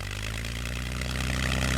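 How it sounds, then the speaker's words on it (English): A wartime aircraft's engines starting up, a loud, steady droning roar with a rough mechanical clatter that builds slightly, heard alone. "The engines screamed into life."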